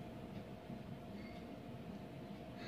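A train rumbles steadily along, heard from inside with a low continuous roar and faint rail clatter, no voices.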